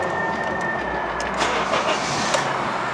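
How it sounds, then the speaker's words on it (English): A Honda CR-V engine cranks and catches into a steady idle, heard at moderate distance inside a garage-like space with no talk over it. "So let's start the engine."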